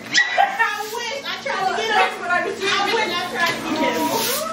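A new puppy whimpers and yips close by, giving a string of high, wavering whines and short squeaky cries for several seconds.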